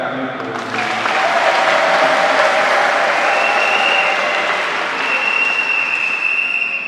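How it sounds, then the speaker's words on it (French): Audience applause at a religious wedding ceremony in Matadi, cheering for the groom, a steady broad wash of clapping that swells in after a brief quiet start and holds evenly throughout. "Est-ce qu'on peut acclamer pour lui?"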